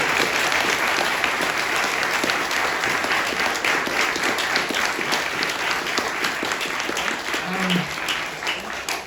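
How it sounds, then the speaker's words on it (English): Sustained audience applause fills the room after a comics event with artist Dave Gibbons, dense steady clapping at even loudness throughout, with faint voices mixed in. "Let's give him a round of applause."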